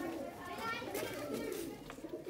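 Soft cooing from Kalsara pigeons, including a young one, drifts under a busy background of children's voices and chatter, the cooing low and murmuring rather than distinct.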